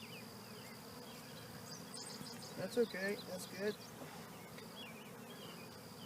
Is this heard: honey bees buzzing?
yes